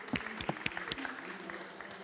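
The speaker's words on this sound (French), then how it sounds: "On peut l'applaudir effectivement." Scattered handclaps from a small audience at an agri-food industry conference, a few distinct claps rising and thinning out over a couple of seconds, fairly quiet and close.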